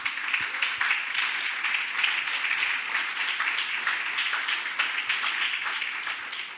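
A church congregation claps together in praise to the Lord during a sermon, a dense, steady applause that fills the whole stretch at an even loudness, with no voices over it.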